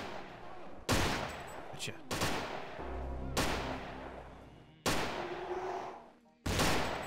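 Gunfire in Vampire: The Masquerade - Bloodlines, several loud separate shots or bursts spaced a second or two apart, each with a long echoing tail. A short spoken word is heard.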